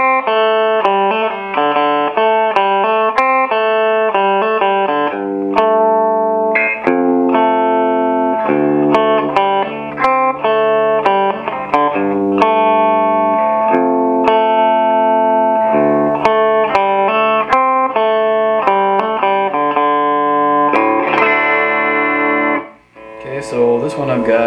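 Electric guitar played through a small amp with built-in spring reverb, a run of clean distorted chords and single notes with a lingering tail, strummed rhythmically for about twenty seconds before fading out.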